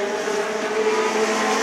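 Legend Cars racing on a short oval, a loud sustained engine drone at close range with steady pitch and a slight rise as the cars pass, no voices over it.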